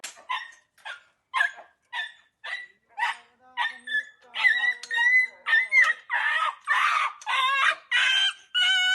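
Stray dogs bark and yelp repeatedly at a village street-dog vaccination drive in Kanjikuzhi panchayat, with short, closely spaced calls that grow louder and more insistent, nearby.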